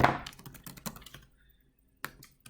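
Typing on a computer keyboard, a quick run of crisp key clicks that slows and stops, then a couple of isolated taps after a pause.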